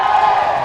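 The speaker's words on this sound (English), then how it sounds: "Wanphichit throws a big hand upstairs and the crowd go wild once again." A boxing crowd at a Bangkok bout roars and cheers in a loud, sustained wash of voices with a commentator talking over it, building as a big punch lands.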